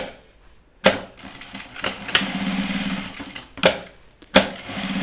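A sewing machine stitches fabric for a dog coat in short bursts of fast, steady whirring, broken by sharp clacks as the work is handled, close and clear with no talking.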